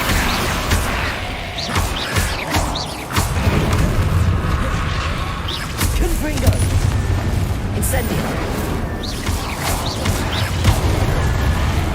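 Fiery Confringo spell blasts go off in Hogwarts Legacy, a steady run of booming bursts and crackling impacts layered over continuous game effects and ambience.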